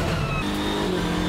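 A BMW M6 GT3 race car's V8 engine roars loudly from inside the rattling cockpit, a dense, continuous, rumbling drone heard alone.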